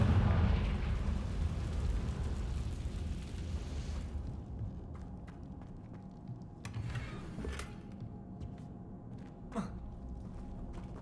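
The Confringo fire spell in the Hogwarts Legacy video game goes off as a loud fiery explosion, its roar decaying over several seconds into scattered crackles and small bursts.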